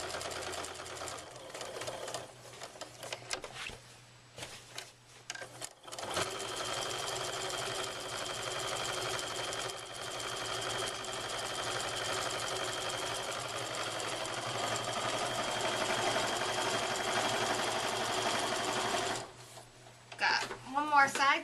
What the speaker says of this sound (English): I'm just going to stitch around the entire top of this.